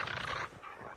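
K9 police dog in Call of Duty Mobile, heard as a short, close burst of dog panting and whining, loud and alone.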